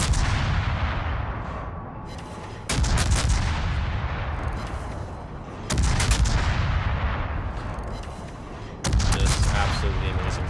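Guns of the destroyer USS Hull blasting in a naval battle video game, three heavy booming salvos spaced a few seconds apart over a constant loud rumble of engine and ocean noise.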